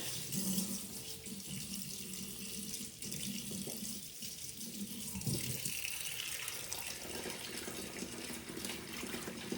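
Water runs steadily from a kitchen tap into a sink while collard greens are being cleaned, a continuous moderate rush with slight splashing variations throughout and no talking.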